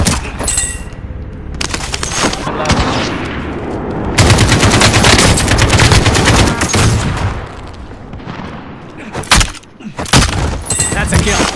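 Dense Call of Duty gunfire, automatic bursts and single shots rattling almost nonstop, loud and close, with voices talking over parts of the firefight.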